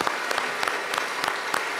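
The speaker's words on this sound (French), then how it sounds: "Applaudissements pour Jojo, s'il vous plaît." Brief burst of audience applause for a guest on a French-language midday live show, with sharp claps standing out over continuous clapping.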